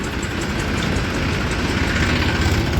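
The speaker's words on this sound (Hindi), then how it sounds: "और मील में देखो ट्रैक्टर आ गए।" Tractors idle in a queue at a sugar mill as sugarcane deliveries arrive. A steady, low, rumbling engine drone carries on throughout with no pauses.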